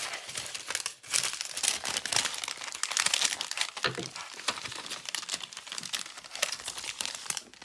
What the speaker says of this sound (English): it's so hard to work with washi when I'm filming. I'll have to just kind of rip it.